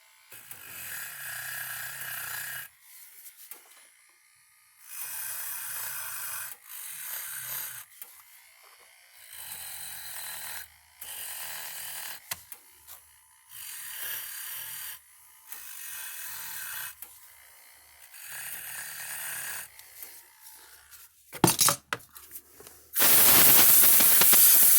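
A Dremel rotary tool cleaning contacts inside a Speedrite 12000i fence charger whirs in about eight short, high-pitched bursts separated by quiet pauses, with a louder burst of noise at the end.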